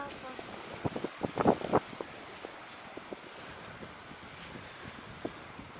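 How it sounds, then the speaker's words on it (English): Gusty wind buffets the microphone outdoors near a lake, a steady rushing roar with a few louder thumping bursts early on, while faint movement and scattered knocks sit underneath. "This wind is going to kill this video."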